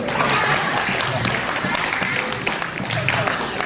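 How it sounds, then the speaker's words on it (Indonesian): Audience applause at a stand-up comedy show, a dense steady wash of clapping from a live crowd filling the room for a few seconds, loud and close throughout with no pause. "Tepuk tangan dulu."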